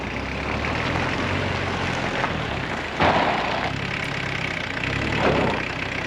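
A diesel dually mini truck drives during a brake test, its engine a steady mid-pitched rumble with a couple of brief louder bumps, close and with no talking.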